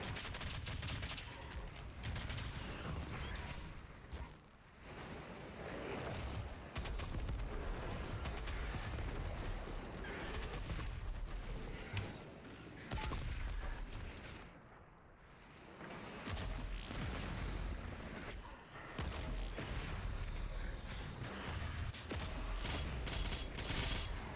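Micro missiles weapon mod firing in the shooter Doom Eternal: dense, sustained bursts of rapid launches and impacts under heavy combat noise, with brief pauses around five and fifteen seconds before the barrage resumes.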